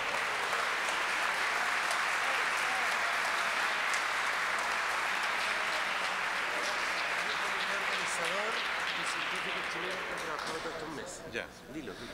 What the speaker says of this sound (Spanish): También un aplauso grande para los jóvenes.